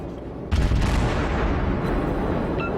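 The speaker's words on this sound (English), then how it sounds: "I aim even further ahead and start putting the rounds down range" A Cleveland cruiser firing high-explosive salvos in World of Warships, a sudden deep boom followed by a rolling, sustained rumble of gunfire, loud and close with no talk.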